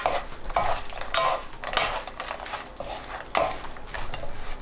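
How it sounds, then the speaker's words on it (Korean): A spoon scrapes and clatters against a pan or bowl while stir-fried medium anchovies are folded into a chili pepper sauce off the heat. The strokes are close, rhythmic and repeated over several seconds. "불 끄고 볶은 멸치와 섞습니다"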